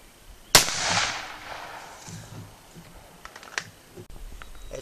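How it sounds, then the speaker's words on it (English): A single loud, sharp report from a .357 Magnum revolver firing a powder-coated cast bullet hand load at a 25-yard target. A decaying echo follows, then faint handling clicks. "just shoot the next one"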